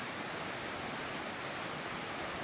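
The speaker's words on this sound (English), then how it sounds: "each gives a different sound when water runs over and down it" Water pours over textured stone cascade steps in a Peak District garden, making a steady, broadband rushing wash that is soft and continuous with no other sounds.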